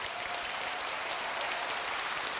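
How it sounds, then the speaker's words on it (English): A concert audience gives steady, dense applause for the Miami University Glee Club. The clapping is loud and continuous from start to finish, with no talk over it. "let me give one last round of applause for our amazing musical guests"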